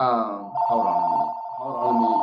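A mobile phone rings with a steady, repeating electronic tone partway through a conversation, sounding close and loud while a person speaks over it.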